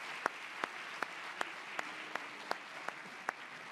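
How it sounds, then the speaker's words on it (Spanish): Audience applause after a conference panel on Spain's sustainability as a tourist destination, a soft continuous patter with a few crisp, evenly spaced louder claps close by, fairly quiet overall. "Un aplauso para Gabriel, para David, para José Manuel y para Eduardo."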